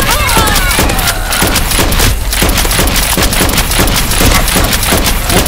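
Rapid bursts of blaster fire during a Nerf war, loud repeated shots in quick rhythmic succession, mixed with shouting voices close by.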